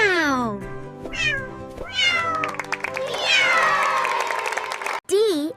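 A cat meows repeatedly in long rising and falling cries, loud and close, mixed with cheerful voices and a burst of crowd noise; a voice may be imitating the meows.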